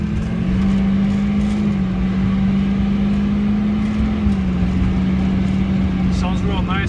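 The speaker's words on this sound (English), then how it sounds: "Sounds real nice with the exhaust system." A 2005 Chevrolet Silverado 3500 pickup engine idles with a steady low exhaust drone, close and loud, while a person talks briefly near the end.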